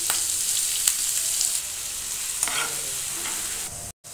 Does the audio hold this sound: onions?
yes